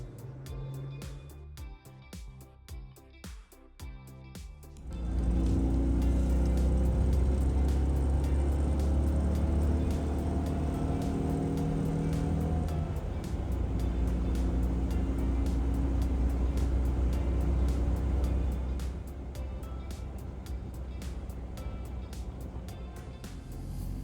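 A Citroen 2CV car drives along with a steady, droning engine and road noise that swells after a quieter start and continues at a constant level, easing slightly near the end.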